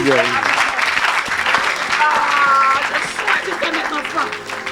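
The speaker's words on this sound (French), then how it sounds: "Acclamons le Seigneur. Clap for the Lord." Congregation clapping and cheering for the Lord at a church service, loud dense applause with voices calling out over it throughout.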